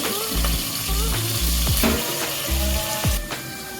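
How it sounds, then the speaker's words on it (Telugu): Onions frying in a chicken masala in a pan, a close steady sizzle with repeated scraping stirs and clanks of a utensil, no talking. "చికెన్లోకి మసాలా వేసుకున్న తర్వాత ఉల్లిపాయలు వేసుకొని మంచిగా వేగేటట్టు తీసుకోవాలి"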